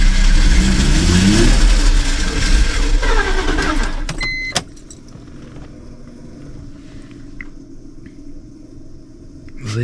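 A cheap project car's engine sputtering to life and revving up loud and close, then cutting out abruptly to near quiet with faint background noise, under excited talk.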